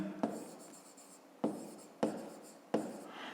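A pen writes on paper while a fifth-grade math problem is worked out, giving soft scratchy strokes broken by four sharper taps as the pen touches down. The sound is quiet and close, with no voice.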